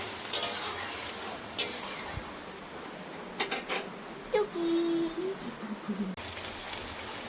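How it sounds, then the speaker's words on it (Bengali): Masala spices sizzle softly in hot oil as the pan is stirred, with occasional utensil clinks and scrapes over a steady frying hiss. "কিছুক্ষণ হতে দেবো, মশলাটা ভেজে নেব।"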